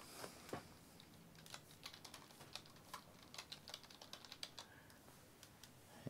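Fast keystrokes on a computer keyboard while an event name is entered, a quick irregular run of light clicks close by against a quiet background, with no talking.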